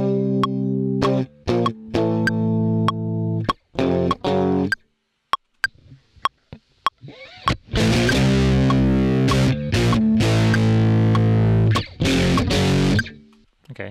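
Heavily distorted electric guitar plays power chords: sparse palm-muted stabs and short rests, then loud sustained chords and a driving rhythm, thick and saturated, with no one talking.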